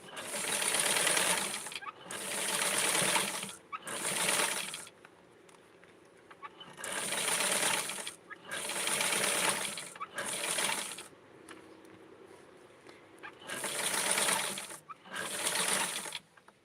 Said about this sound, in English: and now I'm going to sew it.